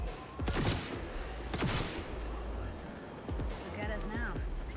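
Gunfire in the video game Cyberpunk 2077: a few sharp bursts of shots with booming low tails, spaced across the moment, heard under someone talking over the game sounds.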